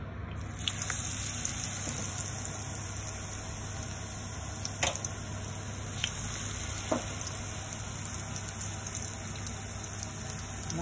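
Wild mountain vegetables (kogomi fern, butterbur buds and koshiabura) frying as tempura in a small pot, giving a steady soft sizzle and crackle with a few louder pops, with no talking.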